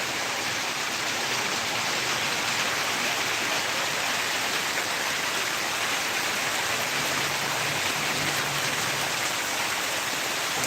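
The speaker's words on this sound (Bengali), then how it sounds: "দেখুন বৃষ্টির কি তেজ চলছে তো চলছে" Heavy monsoon-style downpour in Rangpur, Bangladesh pours steadily, a dense, unbroken hiss of drops hitting surfaces, loud and close throughout with no voices.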